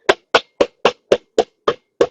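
Eight sharp, evenly spaced thuds ring out as a book strikes parts of a charcoal cubic vertical garden panel to fasten them, each knock crisp and close with silence between.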